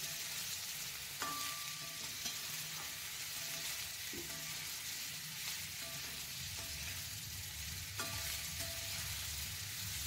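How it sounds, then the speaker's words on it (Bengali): Cauliflower frying with turmeric in a pan, a steady close sizzle running throughout with a few brief clinks and stirring scrapes, no talking. "কপিটা দেখুন আমার বেশ ভালো ভাজা ভাজা হয়ে গেছে"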